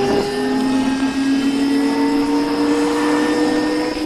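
A King Goat electric vehicle running at full throttle on its stock controller, giving a loud, steady high-pitched motor whine with layered tones over constant wind rush.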